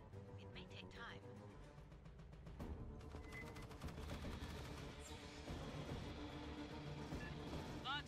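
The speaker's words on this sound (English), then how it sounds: "Gunfire must have drawn them." Rapid bursts of gunfire in the video game Aliens: Fireteam Elite rattle in the background over a dense mix of game effects and engine-like rumble, growing louder after a few seconds.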